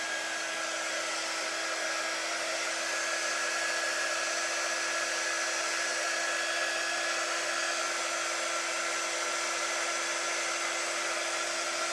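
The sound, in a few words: hair dryer drying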